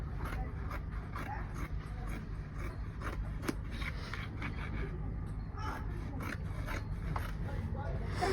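Scissors snip through Ankara fabric while cutting an armhole, giving soft repeated crisp cuts and rubbing, faint and close.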